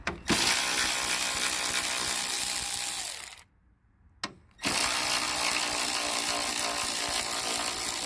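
A ratchet works loose the 10 mm headlight bolts on a 2002–2003 Nissan Maxima. Long, steady, close clicking runs for several seconds, breaks off briefly, then resumes.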